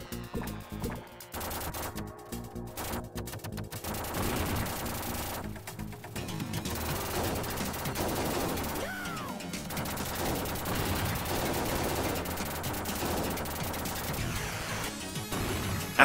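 Light-gun shooting in T2: The Arcade Game played with a Sega Menacer: rapid bursts of machine-gun fire and crashing impacts, steady and loud throughout, layered over game music and effects.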